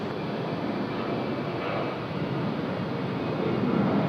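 Steady broadband jet engine roar from an airliner taking off on runway 34 left at Sydney Airport, loud and constant with some wind noise.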